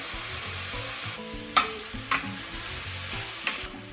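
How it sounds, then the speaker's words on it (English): Onions and garlic sizzle quietly in a pan, a steady frying hiss broken by a few sharp clinks and scrapes of stirring. "onions and garlic. We're going to let that brown a little bit as well."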